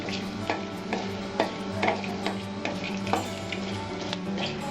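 Black cumin seeds fry in hot oil for a Bengali matar shak, giving a soft steady sizzle dotted with small popping ticks and light stirring, close and fairly quiet.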